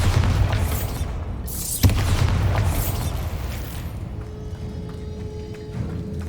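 Bombarda blast spells cast in Hogwarts Legacy, a loud booming explosion near the start and a sharp second burst around the two-second mark, then fading rumble and game ambience.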